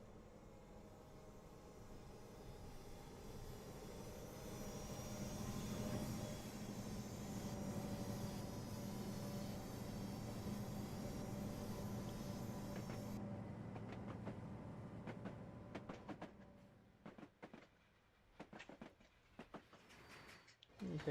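Four diesel locomotive engines idling at about 800 RPM in a train simulator game give a faint, steady drone that fades after about fifteen seconds into scattered clicks.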